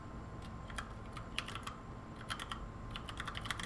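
Fingers tap a computer keyboard in irregular bursts of quiet keystrokes, close but faint against a low steady background hum, with no talking.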